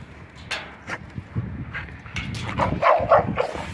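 A dog whines and whimpers in a kennel with other dogs nearby, giving several short nasal cries that grow louder and more insistent toward the end, close by.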